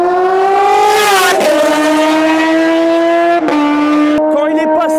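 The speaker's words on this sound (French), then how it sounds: "Quand il est passé, les gars, je vous jure, l'échappement il résonnait contre la barrière." A car roars past loud and close, its exhaust note sweeping down in pitch and echoing off a trackside barrier during a speed duel, sustained and powerful throughout.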